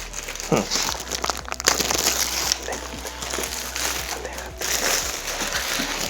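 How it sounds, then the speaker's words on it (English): A plastic shipping bag holding a laptop case is torn open up close, giving loud crinkling and ripping that keeps going throughout. "Let's get it out of this bag. Where is that? All right, so let's just tear it open."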